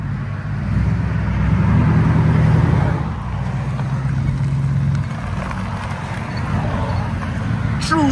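A 4.6L V8 with true dual straight-pipe exhaust, 2-inch mid pipes, 2¼-inch rear pipes and 3.5-inch tips rumbles low and deep nearby. A swell of revving builds in the first few seconds, then settles into a lumpy idle.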